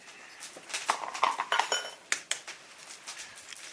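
Fish paste from a big reservoir carp, mixed with salt and egg white, is stirred clockwise in a bowl, giving quick, uneven clinks and taps of utensil against dish, close and moderately loud, with no talking.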